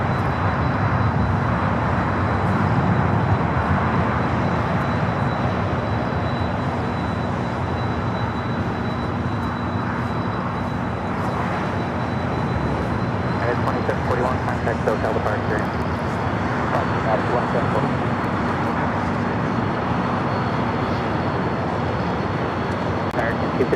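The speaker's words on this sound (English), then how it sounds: "You can hear that 767 on Kilo heading here to the south side." A Boeing 767 taxis along a taxiway at LAX, its jet engines a steady broad roar with a faint high whine, heard from a distance for a long stretch while people talk over it.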